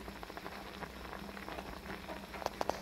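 A pot of water with green bird's eye chilies bubbles at a low simmer, with a few sharper pops near the end; otherwise quiet.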